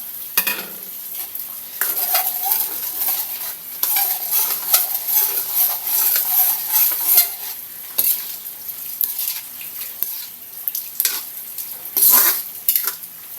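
Chicken broth goes into a simmering pan of patola and greens, with a soft sizzle under repeated scraping stirs and metallic clinks of a utensil against the pan, close and moderately loud, and no talking.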